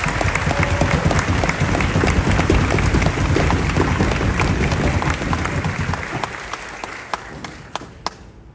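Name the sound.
audience applauding soldiers at US Army graduation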